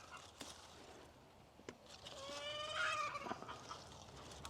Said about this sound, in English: Chickens sure are chatty this morning.